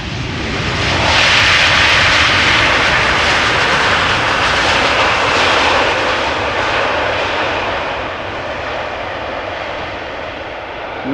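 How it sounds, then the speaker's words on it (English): Airbus A319 arriving at Amsterdam Schiphol from Zagreb, a loud, steady broadband jet engine roar that swells early and holds before easing slightly as the airliner passes close by, with no voices. "A319 arriving from Zagreb."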